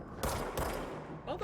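Two sharp bursts of gunfire from the video game Control crack in close succession, followed by a brief reverberant tail and faint game effects.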